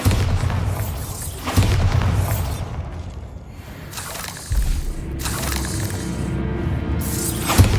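A Bombarda blasting spell explodes in Hogwarts Legacy, giving repeated booming, shattering bursts with crumbling debris and a rumbling tail, loud and close.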